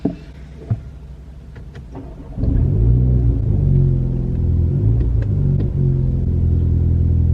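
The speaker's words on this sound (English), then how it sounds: "I'm gonna start up the engine." A Mini John Cooper Works engine cranks and fires into a loud, close idle after a few quiet clicks, then settles into a steady deep rumble with slight fluctuations.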